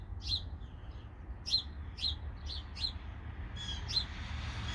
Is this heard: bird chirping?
yes